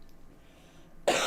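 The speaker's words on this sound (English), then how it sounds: "Still coughing." A single abrupt cough bursts out at the end after a quiet, near-silent stretch.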